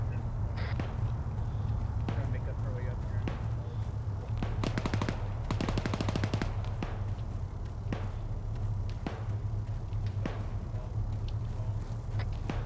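Suppressive gunfire in Arma 3 during platoon training: bursts of automatic fire and scattered single shots, mostly distant, over steady low rumble with a rapid close burst in the middle.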